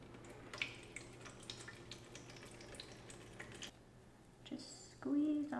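Nutrient water with liquid hydroponic nutrients mixed in is poured from a container into a hydroponic grow machine, giving short splashing and trickling bursts, loudest near the end, over a quiet room hum.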